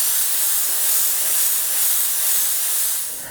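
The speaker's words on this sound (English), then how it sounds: "take your spray gun and spray air over the top to help speed it up" An automotive paint spray gun blows air over a freshly painted panel to speed drying, a loud, steady, close hiss that tapers slightly at the end.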